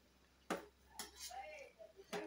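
A spoon stirs chicken curry in a pot, giving a few sharp metallic clinks and scrapes spaced apart, faint and close, with a voice speaking briefly between them.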